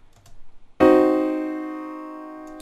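A single diminished chord struck once at about the one-second mark, its tones ringing together and slowly fading, with soft handling noises before it.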